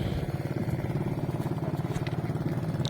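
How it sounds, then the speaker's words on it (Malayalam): A small engine on a backwater boat chugs steadily, close and fairly loud, with an even, pulsing thrum and light rattling, holding the same rhythm throughout. "ചെറിയ എൻജിൻ ഘടിപ്പിച്ച വള്ളമാണ്"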